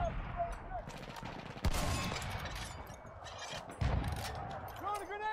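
Two heavy shotgun blasts boom about two seconds apart in Battlefield 1, set in the Argonne Forest, each cutting through a busy background of game battle noise and voices.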